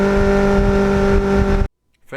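A 1989 Kawasaki Ninja GPX750R motorcycle engine runs loud and close with a steady, droning tone, then cuts off abruptly near the end, followed by a brief pause and a faint return of sound.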